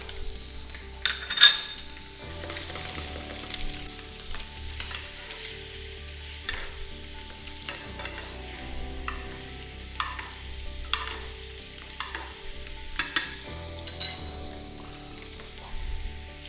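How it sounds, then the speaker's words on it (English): Butter sizzling steadily in a hot pan with scallops, with sharper spitting bursts and light clinks of utensils over a constant frying hiss; no talking. "And now we add into the pan 2 knobs of butter."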